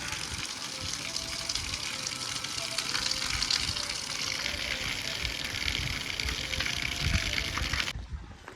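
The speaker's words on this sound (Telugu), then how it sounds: "ఈ వర్షం ఇట్లే పడితే" Heavy rain pours down in a village during the Ganesh festival, a dense, loud, steady rush of water that cuts off abruptly near the end.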